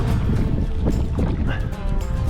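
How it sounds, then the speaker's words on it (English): Strong wind gusting across open water while a paddler moves a small boat, a steady loud roar of buffeting with faint splashy paddle strokes underneath, no voices. "Look at that wind just holding me there."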